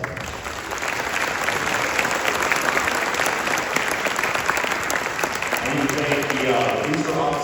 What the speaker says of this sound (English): So give all those people a big round of applause